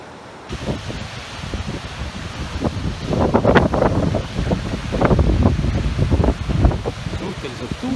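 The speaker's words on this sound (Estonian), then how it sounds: "Suhteliselt tuuline." Gusty wind on the seashore at Palli, Hiiumaa, buffets the microphone with rumbling, roaring noise that swells and eases, over a broad wash of surf-like hiss.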